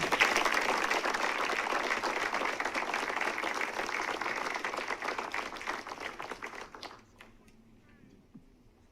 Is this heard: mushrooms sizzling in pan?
no